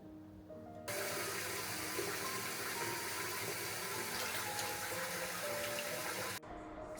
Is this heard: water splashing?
yes